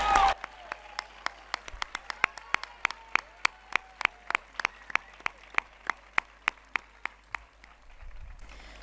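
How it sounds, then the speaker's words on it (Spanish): Steady, evenly spaced claps from an audience at a 2023 high school graduation ceremony, sharp and regular like rhythmic group clapping, with no talk over them. "Un fuerte aplauso para ellas."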